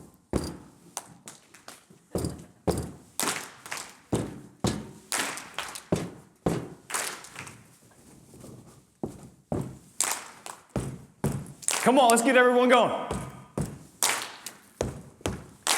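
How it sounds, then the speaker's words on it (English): Paired stomps on a stage floor from a speaker at a morning talk, each answered by a live audience clapping along in a steady repeating rhythm, with a longer burst of applause and cheering near the end and brief speech over it. "How did you know to clap when I stomp my foot twice?"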